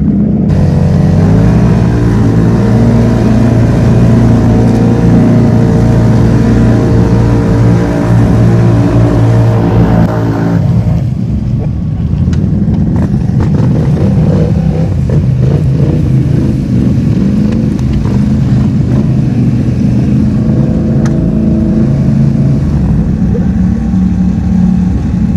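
A Can-Am Renegade XMR 1000R ATV fitted with a 20-shot dry nitrous system revs loudly and continuously up close, its engine roar shifting character partway through as it keeps running hard.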